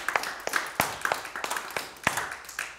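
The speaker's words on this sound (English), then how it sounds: "Give the Lord a hand clap." A church congregation claps hands together at a Wednesday service, irregular overlapping claps in a roomful of people, close and lively, with faint murmurs beneath.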